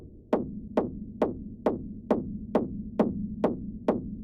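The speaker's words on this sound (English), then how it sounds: "I'm going to add a low cut to the kick." Techno kick drum with a low-cut filter removing its bottom end, leaving only the thin top click, hitting alone in a steady four-on-the-floor pulse of about nine evenly spaced beats.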